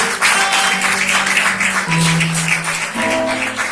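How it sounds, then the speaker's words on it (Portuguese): A church congregation applauds during a worship service, with a steady wash of clapping over sustained keyboard tones. "Você pode aplaudir o nome do Senhor?"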